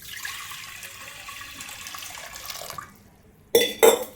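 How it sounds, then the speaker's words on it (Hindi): Water pours steadily into a cooking pot on a gas stove while Chhattisgarhi-style gobhi manchurian is being made, a close splashing stream for about three seconds, then two short, louder splashes or knocks after a pause. "ऑन करत हूँ गैस और अब वो गंजी ला और इनमें डालबो संगवारी पानी।"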